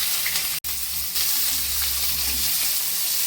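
Whole spices and finely chopped onion frying in oil for a South Indian vada curry, giving a loud, continuous close sizzle with a brief cut near the start, no speech.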